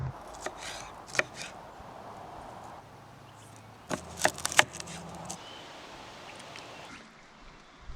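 Knife chopping vegetables at an outdoor camp cooking spot in grizzly country: a few scattered, faint cutting knocks, then a quick cluster of sharper chops, with quiet outdoor background between.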